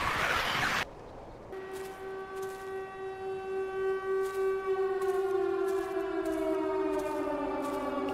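A video game tornado siren: after a short burst of noise, it wails continuously, its pitch slowly sliding downward, with faint gusts of wind in the background.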